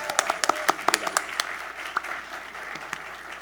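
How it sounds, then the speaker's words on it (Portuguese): Scattered audience applause at a law summit talk, a crowd clapping in a quick irregular burst that starts strong and thins out over a few seconds, with faint voices mixed in. "Palmas para eles,"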